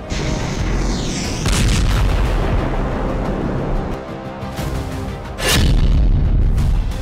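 Explosions go off during a Ukrainian attack on Russian airbases: a loud, continuous booming rumble with a heavier, sharp blast near the end, and no voices.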